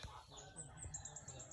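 Chickens cluck softly in a Thai village, faint and fairly distant, with a few short calls and a brief flutter against quiet outdoor background.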